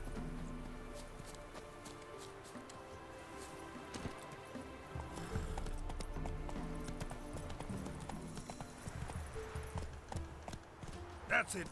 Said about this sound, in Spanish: Mira, me puedo montar en otros caballos.